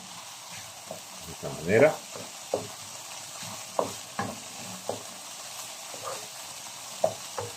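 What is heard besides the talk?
ají panca red pepper paste sautéing in a pan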